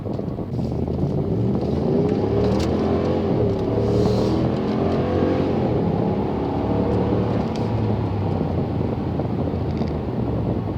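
A car engine revs under light throttle with a Roar Pedal throttle controller set to race mode 5, giving a loud, steady roar that swells gently in pitch and stays close throughout.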